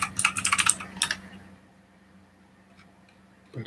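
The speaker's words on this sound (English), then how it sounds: "you typing in Nintendo right now" Quick, bright clatter of typing on a computer keyboard in a burst of rapid keystrokes over the first second and a half, then near silence with a single faint tap at the end.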